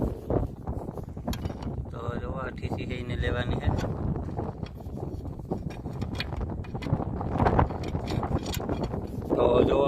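Strong wind roars and buffets outdoors across an open farm field during work with a new tractor, a constant loud rush with gusts, and someone speaks over it.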